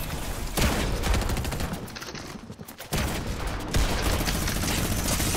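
Sustained rapid minigun fire in a video game, a dense rattling roar that drops out briefly midway and then resumes loud and continuous, with no voices.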